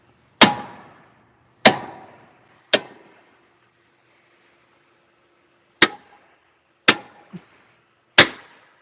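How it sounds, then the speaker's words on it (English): Six sharp, loud thuds from a five-pound dead blow hammer driving a Subaru 2003 Outback 4EAT inner axle seal, struck at uneven intervals with a long pause in the middle and brief ringing decay after each blow. "This is what I use. It's a big 5-pound dead blow."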